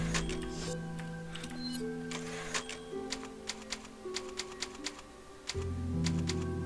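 Typewriter keys clack in the Resident Evil 4 game save screen, a quick run of sharp, evenly spaced strikes over sustained musical tones that shift partway through.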